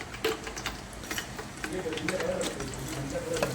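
Whole cinnamon, cardamom and cloves hit hot oil for a chicken kuzhambu, crackling and sizzling steadily with scattered sharp pops and light clinks close by.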